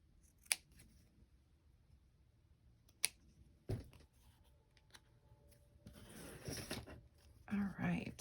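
Scissors trim a small paper specimen price tag, giving a few crisp isolated snips spaced apart, then a busier patch of rustling and cutting near the end, close and quiet.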